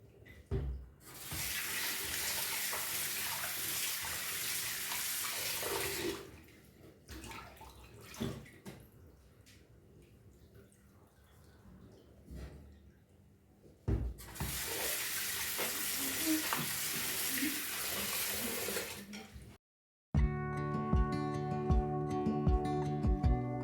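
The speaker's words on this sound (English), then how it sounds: "it's always good to wash your meat" A kitchen tap runs over beef tenderloin as it is washed in the sink, two long loud gushes of water split by quieter handling and drips, followed by music at the end.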